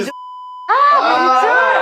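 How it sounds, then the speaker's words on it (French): A single steady electronic beep holds for about half a second, flanked by a person talking loudly right before and after. "il y a plein de carrés là qui vont biper"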